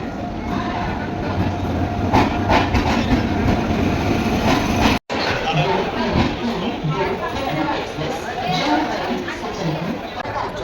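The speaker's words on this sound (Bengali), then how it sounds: "ফাইনালি আমাদের ট্রেন এসে দাঁড়ালো বারাণসী জাংশনে" A passenger train, the Ganga Sutlej Express 13308, pulls into Varanasi Junction with a loud rolling rumble and clatter of the wagons, while crowd chatter and voices carry across the platform throughout.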